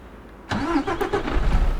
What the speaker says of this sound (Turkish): Şöyle bir kontağımızı açalım. Vites boşta marşımızı yapacağız abi.